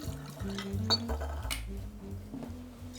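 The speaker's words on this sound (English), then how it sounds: "Pour directly into the bottle and mix." Infusion poured into a glass bottle and mixed for a cocktail liqueur, light clinks of glass and a soft liquid splash, close and continuous for a few seconds with no talk.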